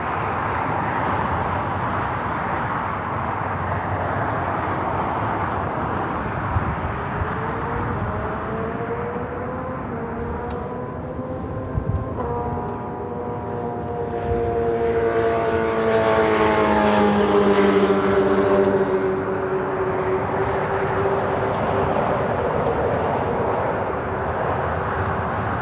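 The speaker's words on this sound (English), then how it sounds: "Air China heading back to Beijing at 777-300ER," An Air China Boeing 777-300ER rolls down runway 24 left at LAX for takeoff, a sustained jet roar swelling as the engines spool up, with rising whine tones and strong rumble, no voices.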